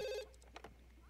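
A telephone ringing in the video game The Sims 2, a short electronic ring that stops abruptly, followed by a few faint game sounds, quiet overall.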